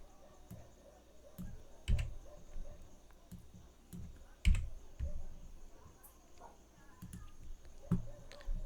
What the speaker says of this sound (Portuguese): clicando dentro do campo e apagando com backspace. Ou então com delete